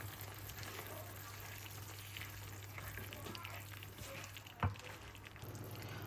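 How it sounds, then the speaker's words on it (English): Curry sauce with curry powder cooking in a pan while being stirred, a steady soft sizzle running throughout with a brief louder scrape or clank near the end, no talking. "and then give it a stir."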